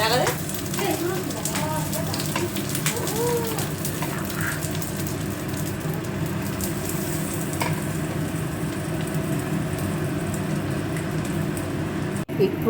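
Fresh river hilsa fish fries in oil in a pan over low heat, a loud, steady, close sizzle and crackle that runs unbroken throughout.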